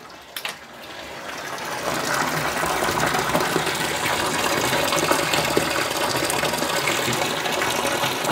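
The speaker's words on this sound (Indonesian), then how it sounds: "Oke, kita tambah air ya." Water gushes steadily into a tub holding a toy boat, beginning with a few knocks and then settling into a loud, continuous close pour that runs to the end.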